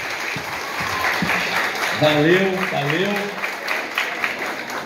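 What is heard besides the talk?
audience applause at a school ceremony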